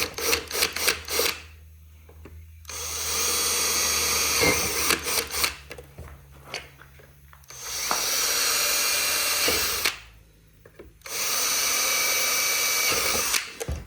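Power drill boring through a tow mirror mount, whining in long loud bursts close by, with short pauses and small tool clicks and handling noise between runs.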